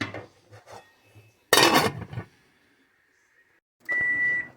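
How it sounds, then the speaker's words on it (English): Kitchen timer sounding a steady, sustained electronic beep near the end, following clattering of pots and utensils while mushroom soup with potatoes, carrots and parsnips boils. "Timer says it's time."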